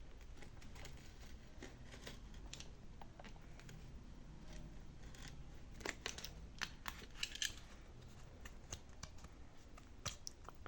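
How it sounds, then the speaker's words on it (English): Scissors snipping material for DIY rhinestone slippers: a quick, irregular run of close, crisp cuts and rustles, with denser clicks toward the end and no speech. "I'm trying to cut it twice because of the width."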